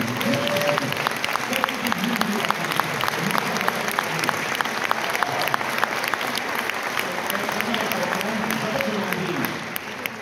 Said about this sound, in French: Un applaudissement pour l'Afrique